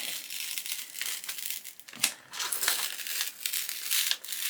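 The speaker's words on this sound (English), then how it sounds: "I'm not usually very careful at unwrapping things, but I'm going really slowly." Thin plastic wrap is slowly peeled off an adult colouring book, a close, continuous crinkling and rustling with brief pauses.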